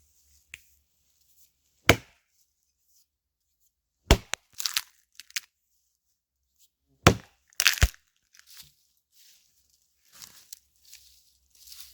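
An axe strikes wood while splitting a felled tree into small sections for starting a fire, giving sharp separate cracks and chops at irregular intervals with quieter splintering between, close and without speech.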